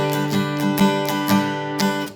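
Steady guitar strumming in a song's pattern, sharp rhythmic strokes landing every half second or so over ringing chords, close and moderately loud with no voices.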